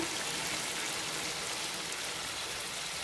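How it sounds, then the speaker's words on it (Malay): Water pours into a pot of beef curry being cooked with coconut milk, a steady, even splashing hiss that runs unbroken throughout at moderate level. "Baru kita masukkan air ya"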